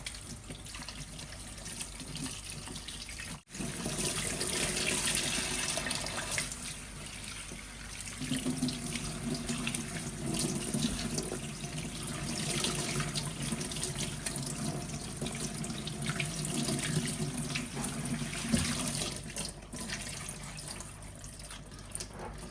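Running tap water pours steadily into a sink as garlic and other ingredients for arroz caldo are rinsed, a continuous close splashing stream that briefly cuts out near the start.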